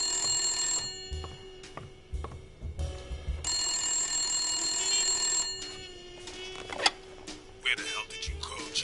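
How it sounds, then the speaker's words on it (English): A telephone rings repeatedly in the Blacksad: Under the Skin video game, several rings in bursts with pauses, heard alongside game audio and some voice. "I want to answer the phone."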